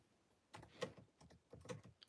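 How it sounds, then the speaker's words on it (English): Fingers tap on a computer keyboard while someone types a message, faint and close, in two short clusters of quick, uneven key clicks with brief pauses. "just typing a message."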